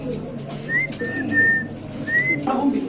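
A Mundian pigeon calls with a few short whistling, cooing notes close by, over a low steady background hum.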